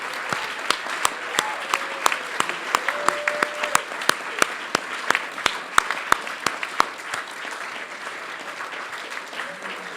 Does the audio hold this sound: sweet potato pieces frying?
no